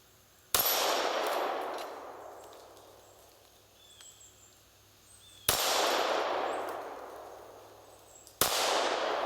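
A Kahr PM9 9mm pocket pistol fires three sharp, loud single shots a few seconds apart outdoors, each crack followed by a long echoing decay.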